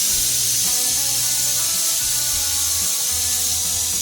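A pressure cooker on high flame whistles and vents steam while cooking banana jam in a home kitchen, a loud continuous hiss and pulsing whistle close by with no talking.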